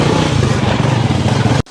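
A motorcycle squeezes between houses in a village, its engine loud and close with a steady rumbling drone that cuts off abruptly at the end.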